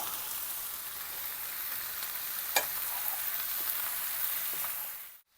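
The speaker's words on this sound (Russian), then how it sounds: "Сейчас перемешиваю и тушу." Cabbage and onion stew in their own juices in a pan while being stirred, producing a continuous bright sizzle with occasional sharp clicks and scrapes, close and steady with no talking.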